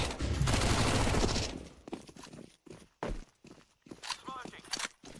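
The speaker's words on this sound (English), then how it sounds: "Flashbang out." Flashbang grenades go off in a tactical shooter video game, starting with a loud, dense burst of blast noise. Scattered sharper pops and gunfire-like hits follow, with players talking over the action.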